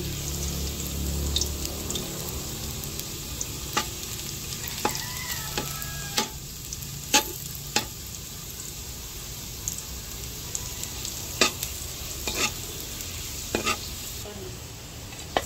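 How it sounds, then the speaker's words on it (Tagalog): Garlic sautéing in a pan gives a steady close sizzle and hiss, broken by sharp clicks and scrapes of a utensil stirring against the metal at irregular intervals. "Bale ako po ay nagigisa na po ng bawang."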